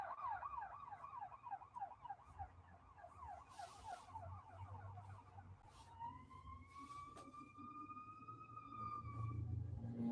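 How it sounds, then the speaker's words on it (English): Ambulance sirens pass outside, first a rapid warbling yelp and then a slower steady wail, faint and distant over low traffic rumble. "So many ambulances."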